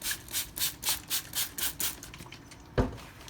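Knife steel stroked across a 2000 grit sharpening stone in a steady rhythm of about nine soft rasping passes, each a brief hiss, followed by a sharper knock near the end, with no talking.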